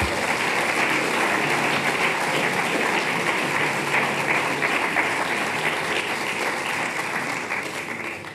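Steady applause from a conference audience at a political party's closing address, honouring the headquarters staff team, sustained and dense for the whole stretch before tapering slightly at the end.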